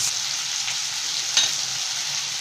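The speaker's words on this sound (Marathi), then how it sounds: "आता अद्रक लसूण पेस्ट आपली चांगली तेलामध्ये चांगली फ्राय झालेली आहे" Ginger garlic paste frying in hot oil for a spicy chicken gravy, a constant close hiss of sizzling with one brief stirring clink.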